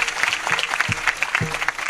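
Audience clapping at a lively Marathi kirtan, a steady patter of many hands with a few louder bursts, close and continuous, with faint voices mixed underneath.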